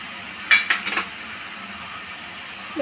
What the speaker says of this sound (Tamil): இந்த பால் பவுடரை போட்டு கிண்டி இறக்குங்க